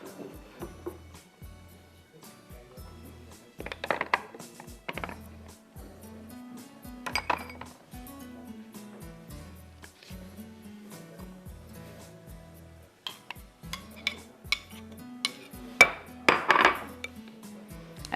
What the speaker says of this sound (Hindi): अच्छी तरह आप इसको मिक्स कर दीजिए।